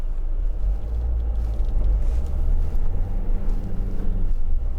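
A 2014 Renault Trafic 2.0 dCi van being driven, with a steady, loud low engine and road rumble that holds throughout, without talk.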